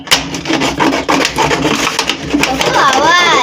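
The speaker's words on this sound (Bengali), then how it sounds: "এই জন্য কৌটোটা কাটছি।" A knife cutting through a plastic container, a dense scraping, rasping texture running steadily throughout, with a voice rising briefly near the end.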